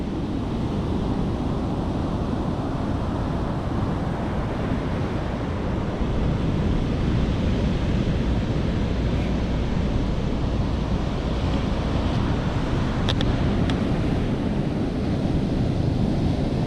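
Sea waves and wind at Easington beach on a sunny day, a continuous loud rush of surf with gusting wind buffeting the microphone, steady throughout with no voices.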